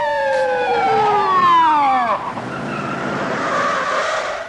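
A police car siren wails loudly with falling pitch, then cuts into a harsh screech of tyres skidding as the car brakes hard nearby.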